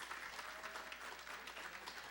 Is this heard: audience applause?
yes